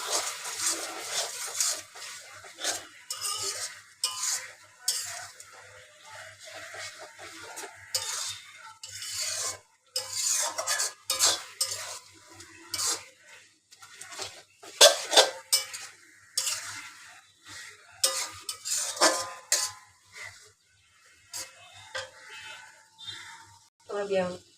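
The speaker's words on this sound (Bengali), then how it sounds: "এখন আমি কচু শাকগুলো আবার কিছুক্ষণ কষা নিব" Taro greens with a hilsa fish head being stirred and sautéed in a pan, with irregular scraping and clattering of a spatula against metal over a soft sizzle, continuing in bursts with brief pauses.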